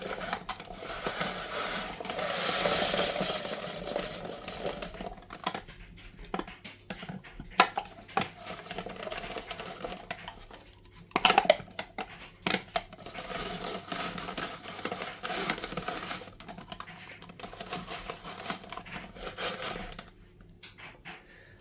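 Apple grated in a hand-cranked grater, an irregular scraping and rattling of metal and fruit with clatters and a brief louder knock partway through, fairly close, no talking.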